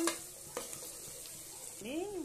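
Ginger garlic paste and turmeric frying in a pan for a mutton dish, a soft steady sizzle broken by a few clinks and scrapes of a spoon stirring, fairly quiet and close.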